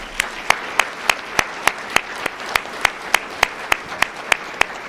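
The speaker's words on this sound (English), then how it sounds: "Let's give him a big round of applause." Audience applause at a Martin Luther King, Jr. birthday celebration: steady, even clapping that holds at a moderate level for about five seconds, with regular sharp claps standing out from the crowd.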